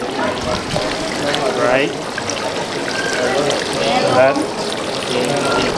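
Water trickles and pours at a temple purification basin as hands and mouth are rinsed, a close, uneven splashing under a person's talking.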